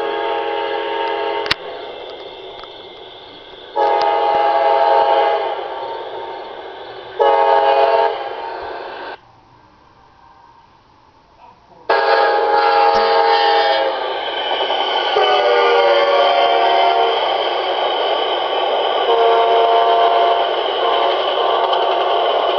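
An Amtrak passenger train passes at Chesterton, its horn sounding in several loud sustained blasts separated by short gaps, with a brief quieter lull, over the continuous rumble and clatter of the cars going by.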